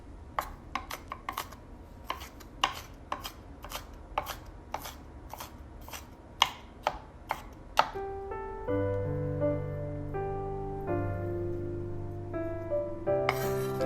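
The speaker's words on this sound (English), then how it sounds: "We need a half shallot, finely minced." Quick, rhythmic knife taps on a cutting board as half a shallot is finely minced, a string of crisp close clicks that stops partway, giving way to soft background music.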